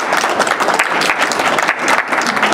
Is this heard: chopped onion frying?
no